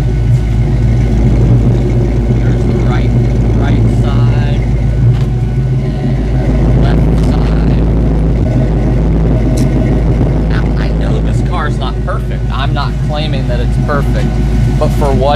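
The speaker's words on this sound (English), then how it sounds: "an all original 89 5-liter Mustang. Like it's sitting here idling." All-original 1989 Ford Mustang with a 5.0 liter engine idling, a loud, steady low rumble up close, with someone talking over it throughout.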